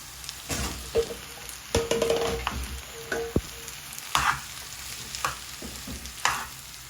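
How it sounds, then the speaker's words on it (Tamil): Potatoes being mixed into a frying masala for aloo bonda, with a soft sizzle under intermittent spoon scrapes and knocks against the pan, several distinct strokes, close and fairly quiet, no speech. "இப்படியே எல்லாம் வடிவாக மிக்ஸ் பண்ணி எடுப்போம்"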